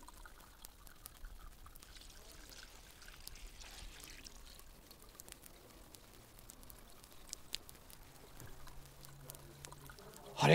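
Water pours gently onto a potted flower, a faint, steady trickle and patter lasting about ten seconds at low level, ending with a louder brief sound.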